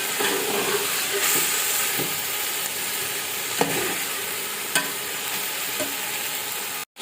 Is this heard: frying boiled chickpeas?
yes